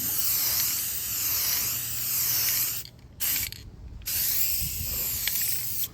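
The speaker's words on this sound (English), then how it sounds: "So I figured spraying this was the best bet." A spray paint can hisses loudly in long bursts over Bondo-filled areas of an arcade cabinet being restored, with two brief pauses and a rattling click between sprays, close up.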